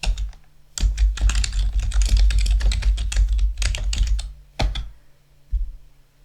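Fingers type a college name on a computer keyboard in a quick, steady burst of close key clicks, pausing briefly before a couple of final taps.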